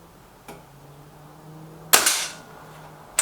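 A Kral Puncher Knight air rifle fires one sharp, loud shot on a target range, preceded by a faint click and a low steady hum, with a short tail after the shot.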